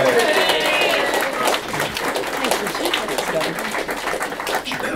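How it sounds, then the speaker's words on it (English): A pub audience claps to welcome politician Cathy McGowan, with a dense burst of applause and scattered crowd noise that tapers off into softer, uneven clapping. "give you a big round of applause"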